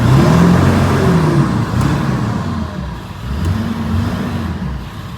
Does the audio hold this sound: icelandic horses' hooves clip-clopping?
no